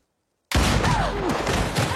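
Gunfire in an action film bursts in suddenly after brief silence, a loud dense volley of shots with rumbling booms and echoing tails, several distinct cracks layered over a continuous roar.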